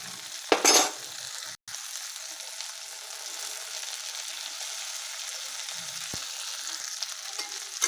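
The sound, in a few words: peas and boiled potato frying in a pan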